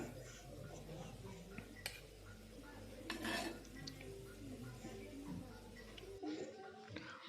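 Fried dhekia fern greens are scraped and moved from a pan onto a plate, with soft metallic clinks and scraping, a louder rustling burst in the middle and a faint background hum.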